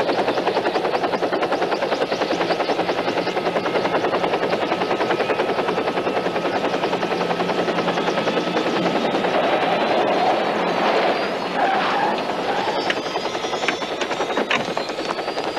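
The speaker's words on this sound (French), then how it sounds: "Eh ben, c'est un hélicoptère de la ville, ça." Continuous loud helicopter rotor noise with a steady rapid chopping throb, close and filling the whole stretch without letup.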